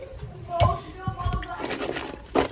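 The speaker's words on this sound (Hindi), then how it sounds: "हमें स्ट्रेनर में डालते हैं ताकि इनका पानी जो है वो ड्राई हो जाए" Soaked potatoes tipped into a kitchen strainer, water splashing and draining in short gushes while a person talks over it.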